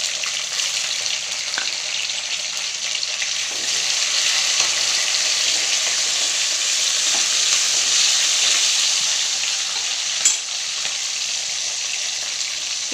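Vegetables sizzle steadily in a hot pan, a continuous bright frying hiss broken by occasional scraping and clinks of stirring, close up and without speech.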